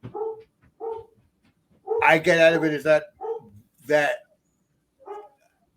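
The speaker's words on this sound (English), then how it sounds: "you hear the dog barking" A dog barks a few times nearby, sharp bursts mixed in with someone talking.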